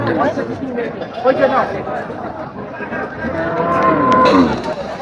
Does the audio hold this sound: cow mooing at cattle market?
yes